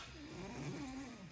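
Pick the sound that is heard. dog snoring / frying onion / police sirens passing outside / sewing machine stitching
dog snoring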